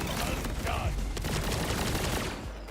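Rapid SMG fire in Borderlands 4 chatters continuously and close, a dense stream of shots with a voice briefly heard underneath.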